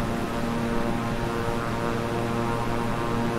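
Twin propeller engines of a King Air 350i drone steadily in Microsoft Flight Simulator, a constant dense hum with a low tonal throb, loud and unbroken with no voices.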